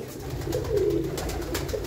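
Pigeons coo in a loft where young birds are being raised, a soft low murmuring that carries steadily through the whole stretch with no talking.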